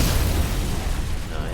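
A target blown up in the video game Brigador, producing a loud, dense, rumbling explosion that fills the short moment with a sustained roar.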